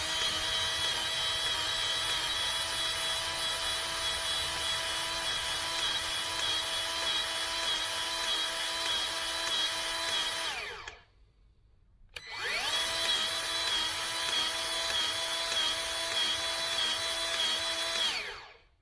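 A Milwaukee 2446-20 cordless grease gun runs with a steady motorized whine while pumping grease down its hose, stopping briefly before starting again, loud and close without talk.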